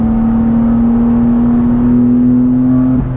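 A 2024 BMW M3 CS accelerates with a strong, steady engine tone that climbs slowly in pitch, heard close and loud from inside the car, then cuts off briefly as it shifts.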